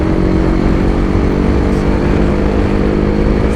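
A two-stroke Yezdi or Jawa motorcycle rides along, its engine giving a steady, loud, close drone mixed with wind rush throughout, with no talking.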